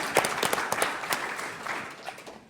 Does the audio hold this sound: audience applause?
yes